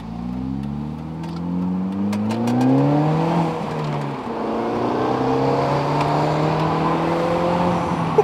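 A modified Mini Cooper S accelerating hard with traction control off, engine revving up through rising pitch sweeps, a brief shift dip, then pulling again, loud and close with no talk.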